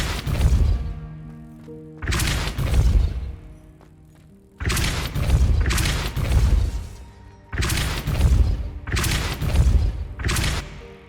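Depulso push-spell blasts in Hogwarts Legacy, loud heavy thuds and crashing impacts arriving in repeated bursts about every second or two, each with a short rumbling tail, no voices.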